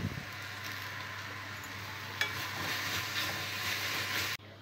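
Gongura leaves frying in a pan, an even, moderately quiet sizzle and hiss that holds steady, with a single clink partway through before it cuts off.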